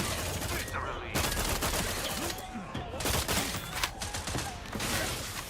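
Rapid, continuous smart gun fire in The Outer Worlds 2, a dense barrage of overlapping shots that runs the whole clip at fairly low level with brief lulls between bursts.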